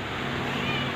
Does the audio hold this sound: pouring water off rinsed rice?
no